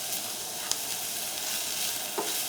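Egg mixture with jalapeño stir-frying in a pan over a high flame, a steady close sizzle with occasional light scrapes of a spatula, no voices.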